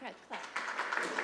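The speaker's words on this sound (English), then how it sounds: "So next, clap." Audience clapping breaks out at an academic congress session in Basel, rising after a brief voice at the start into a steady, fairly faint spread of applause.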